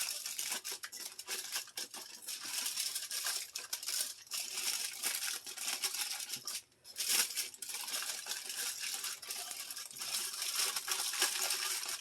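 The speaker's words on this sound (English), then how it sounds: "You just wrap the aluminum foil up as far as it'll go on all 4 sides." Aluminum foil being crinkled and folded up around a pile of vegetables, a busy run of close crackling and rustling that carries on with a brief pause in the middle, fairly faint, with no voices.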